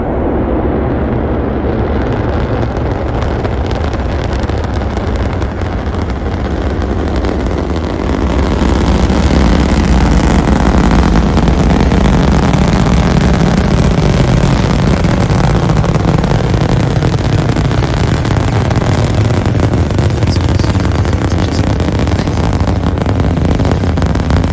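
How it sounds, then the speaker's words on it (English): Falcon 9 rocket's Merlin engines roaring at liftoff on a Starlink launch, a continuous broadband rumble that swells louder partway through and holds steady, heard without voices. "We have Merlin engine ignition and liftoff Falcon 9 with Starlink 5-1 to a low Earth orbit."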